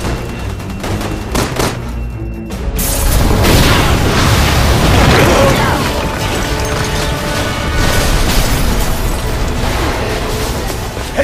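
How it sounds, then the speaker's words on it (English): Gas explosion in the video game Resident Evil 6, a loud booming blast that swells into a long rumbling roar with crackling debris, following quieter game noise, with no talk. "Someone shoot the gas! We can blow these things to kingdom come!"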